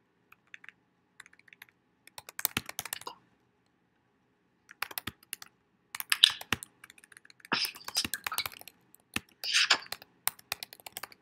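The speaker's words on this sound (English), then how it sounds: "So I could type words" Typing on a computer keyboard, with bursts of rapid close key clicks separated by short pauses and near silence.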